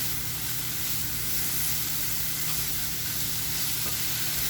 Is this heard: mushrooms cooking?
yes